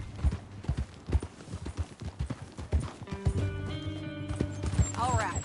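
Horse hooves clip-clop steadily in Red Dead Redemption 2, close and rhythmic at first, then slowing as the horse stops and a whinny follows, with characters talking over the hoofbeats.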